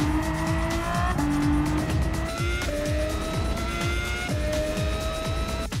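An Aston Martin Vulcan races around Interlagos in Gran Turismo 7, its engine loud and close, climbing sharply through repeated gear changes with a harsh, high-revving howl and a faint tire squeal beneath it.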